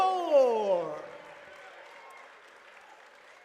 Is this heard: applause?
yes